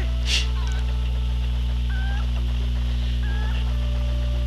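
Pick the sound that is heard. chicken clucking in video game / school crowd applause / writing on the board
chicken clucking in video game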